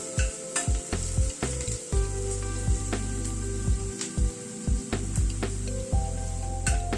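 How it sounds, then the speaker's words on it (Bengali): Sliced onions fry in a pan over a high gas flame, giving a constant loud sizzle broken by regular scraping thumps of a spatula stirring them. "গ্যাসের ফ্লেমটাকে হাইতে রেখে পেঁয়াজটাকে ভেজে নিচ্ছি আগে।"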